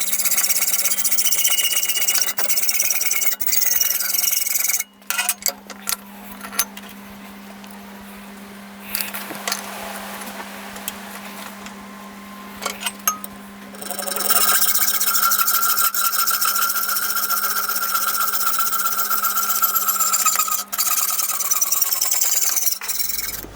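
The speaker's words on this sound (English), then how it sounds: "I'll head over and cut these just with a hacksaw" Hand hacksaw cutting metal parts for hot air engine stands, with steady rasping back-and-forth strokes close up and a brief pause partway through before the sawing resumes.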